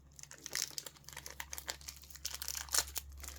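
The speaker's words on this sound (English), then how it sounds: "Let me take these stickers off." Stickers are peeled off a new Tissot PRX Digital watch during unboxing, producing faint, close crinkling and light tearing rustles that continue in small bursts.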